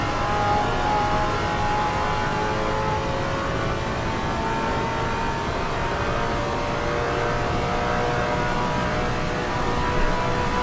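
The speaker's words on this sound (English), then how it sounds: "we are definitely revving or redlining down these straightaways in the last couple corners" Simulated 1970 Trans Am race car in Assetto Corsa at Watkins Glen, its engine held near redline down a straight. A steady, loud, continuous engine drone runs through the whole stretch without letup.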